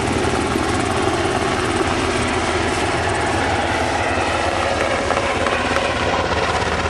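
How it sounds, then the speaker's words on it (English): Loud, continuous rotor noise from a US Coast Guard HH-60J Jayhawk helicopter, a heavy rhythmic thumping mixed with engine roar, steady throughout and very close. "Sound is caused by the rotor."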